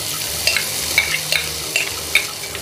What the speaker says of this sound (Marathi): तूप गरम झालेलं आहे, जिरे घालते, हिरव्या मिरचीची भरड